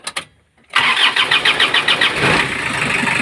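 A Mazda Bongo van engine with a misfire cranks after a brief silence, catches with rhythmic chugging, then settles into a steady, loud idle close by.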